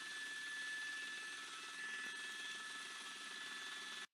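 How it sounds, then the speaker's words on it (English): A police helicopter hovers overhead during a Southern California pursuit, its steady rotor and turbine roar filling the whole stretch at an even, distant-to-mid level before cutting off abruptly at the end. "The helicopter's still overhead, and those sheriff deputies trying desperately to catch up."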